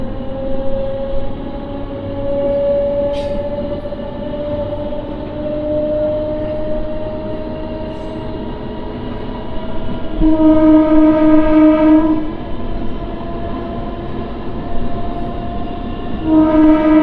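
A MEMU passenger train rolls steadily along between Nidadavolu and Bhimavaram Junction, its continuous running rumble broken twice by loud, sustained horn blasts, one lasting about two seconds and a shorter one near the end.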